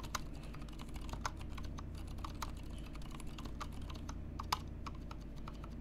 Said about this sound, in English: Like that's mainly all you hear during typing is the space bar.